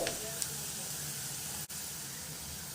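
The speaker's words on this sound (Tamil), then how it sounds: "வெங்காயம் நல்லா கலர் மாதிரி வர்ற அளவுக்கு நல்லா வதக்கிக்கலாம்." Onions sauté in a pan, a steady close sizzle and hiss with a faint tap or two near the start and a brief dip partway through, no voice over it.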